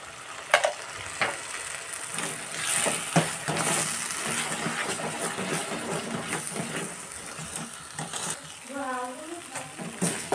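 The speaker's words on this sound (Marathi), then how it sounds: "मसाला फ्राय होत आहेत" Red chili powder, kitchen king masala and salt frying in a pan for matar paneer sizzle steadily up close, with stirring scrapes throughout and a brief voice near the end.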